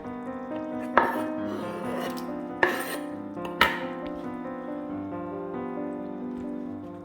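Garlic being diced on a cutting board, three sharp knife strikes standing out over a steady kitchen background, close and fairly loud.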